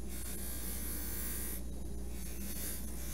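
A buffing wheel hums steadily against a silver ring, polishing the outside edges of the shank in a continuous whirring rub with slight shifts in pitch as it moves around, quiet and alone.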